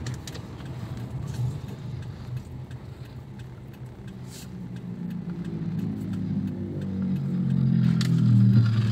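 A 2011 Toyota Avanza's engine pulling through the gears, a steady mid-pitched drone with light clatter that swells louder toward the end as the car accelerates, heard from inside with no talk.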